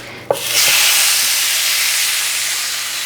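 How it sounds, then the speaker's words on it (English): A beef steak drops into hot tallow in a pan and breaks into a loud, close, broad hiss that holds steady for several seconds, easing only slightly toward the end. "Hear that lovely sizzle?"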